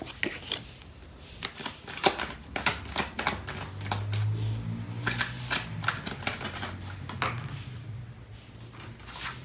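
Tarot cards are shuffled and handled nearby with irregular bursts of crisp, clicking flutters and brief pauses, over a faint low background hum.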